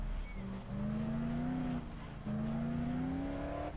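A truck drives through sand in the video game Dead Island, its engine droning steadily and rising in pitch as it speeds up twice with a gear change between, heard alone without talk.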